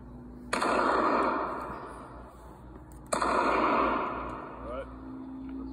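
Two loud shotgun blasts from a VR80 RIA semi-automatic shotgun fired at a target, about two and a half seconds apart, each followed by a long decaying echo across an outdoor range.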